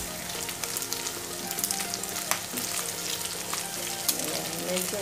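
Beef garlic steak frying in a pan at home gives a steady, close, loud sizzle with crackling pops and some stirring, and nobody talks.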